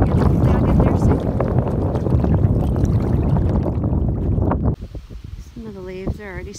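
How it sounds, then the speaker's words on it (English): Kayak paddling across open water in wind, gusty buffeting noise with splashy paddle strokes up close, then easing off as a voice speaks at the end. "So I'm gonna keep paddling and hopefully I'll get there soon."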